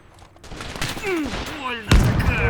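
Gunfire and explosions from the video game Call to Arms: Gate of Hell, with whistling incoming rounds and a heavy blast near the end, loud and continuous battle noise with no talking.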